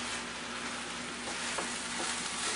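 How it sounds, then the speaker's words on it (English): Egg being stirred through hot brown rice and vegetables in a pan: a steady, even sizzle with a few soft scraping pulses from the stirring, heard alone. "So now we're just going to mix it all the way through."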